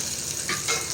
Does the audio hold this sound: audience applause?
no